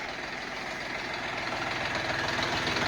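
A Dongfeng tractor runs with a single-axle trailer hitched behind, its engine giving a steady, loud diesel chug with a rapid low pulse throughout and no talk over it.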